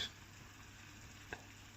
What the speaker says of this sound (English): crack a couple of eggs in there. Give that a moment on the stove